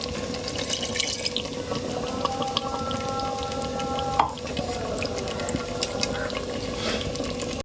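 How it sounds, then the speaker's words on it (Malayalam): Water pours steadily into a pot for several seconds, a continuous splashing stream with a faint rising ring, no voices. "ഇത്ര വെള്ളമാണ് നമ്മളിതിലേക്ക് ഒഴിച്ചു കൊടുക്കുന്നത്"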